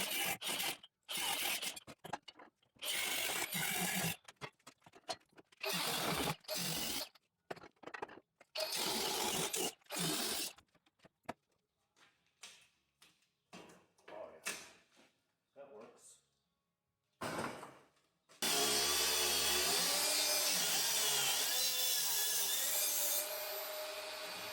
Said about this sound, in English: now I gotta get this crap cut off the steps